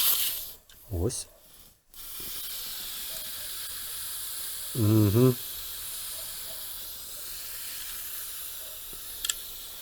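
CO2 gas leaks from a Crosman 1600 BB pistol as a continuous broad hiss running through the whole stretch, with a couple of short voice bursts over it.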